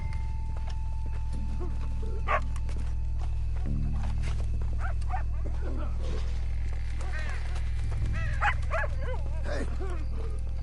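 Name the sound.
dog barking in video game Red Dead Redemption 2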